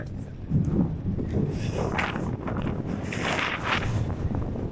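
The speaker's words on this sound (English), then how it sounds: "Windy, innit?" Strong wind gusting across the microphone on a windy day during a rigging reduction job, a constant rumbling buffet with surges, and people talking faintly in the background.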